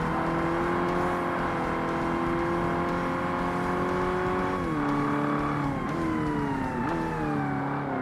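A Corvette racing in the Forza Motorsport video game on Xbox, its engine droning loud and steady at high revs, with pitch dipping and climbing through gear changes toward the end, no talk.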